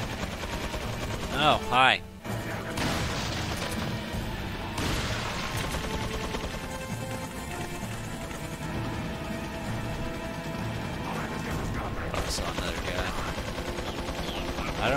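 Turret gunfire in Resident Evil 4 rattles in rapid bursts, with a sharp loud volley early on and continuing shots and game noise throughout, while someone talks briefly.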